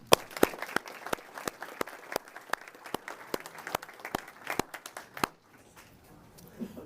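Scattered audience clapping at a Homeland Security awards ceremony honoring veterans, sparse individual claps in a loose rhythm that die out near the end, leaving a quiet room.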